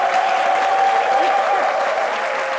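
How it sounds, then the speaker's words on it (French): Loud, sustained audience applause from a crowd at a French debate broadcast fills the whole stretch without a break, with a voice speaking over it. "je vous demande d'applaudir très très fort"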